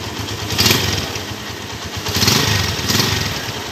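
A TVS Tiger Revo motorcycle engine runs close and loud, its steady rough drone swelling in three brief revs over a little under four seconds, with no talk.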